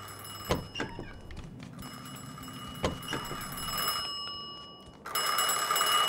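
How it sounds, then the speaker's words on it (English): A telephone rings in the video game Mafia 2, a bright repeating ring heard in a couple of bursts over a quiet indoor background, with a clear ringing tone toward the end. "Answer the phone."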